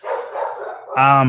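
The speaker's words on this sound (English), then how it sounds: "My apologies for the dogs barking because that means the family's here." Dogs barking in a family home, a short burst of loud, close barks near the end following a stretch of mixed indoor noise.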